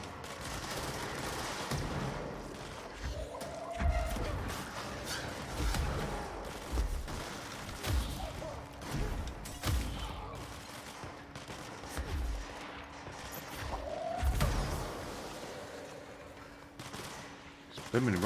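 Rockets exploding in the game Control: a series of sharp blasts and booms spread across the stretch amid gunfire-like impacts, moderately loud, with scattered voice sounds.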